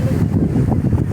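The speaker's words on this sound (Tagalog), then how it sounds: "malakas ang hangin at umuulan." Strong wind blowing outdoors in the rain, a steady loud rumbling roar buffeting the microphone throughout, with no voices.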